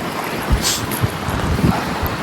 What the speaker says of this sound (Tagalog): Malakas lang yung hangin ngayon.